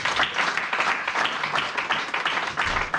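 A church congregation at a French-language sermon breaks into dense, continuous applause, steady and fairly loud, with many hands clapping at once and no clear pauses.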